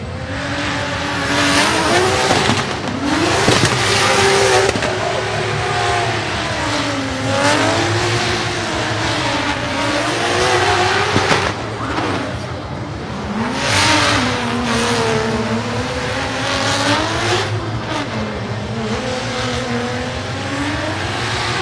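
BMW drift car competing in an FIA Intercontinental Drifting Cup qualifying run, its engine revving hard with repeated rising and falling pitch sweeps and sustained tire squeal, loud and continuous throughout.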